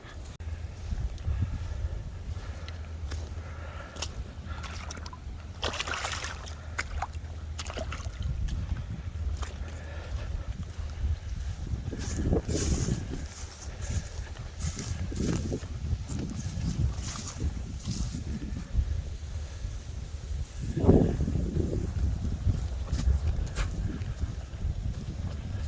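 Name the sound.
wind outdoors on a windy spring day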